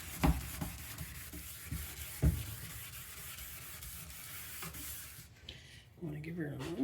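A broken plastic car headlight being sanded with a SHIELDOM headlight restoration kit gives a steady, close scratchy rubbing with a few sharper knocks, then thins out near the end as low rumbling noise takes over.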